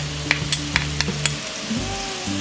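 Pointed gourd (parwal) pieces fry in a pan over medium to high flame, a steady sizzle broken by a handful of sharp clinks of a spoon stirring against the pan, close and clear with no talking.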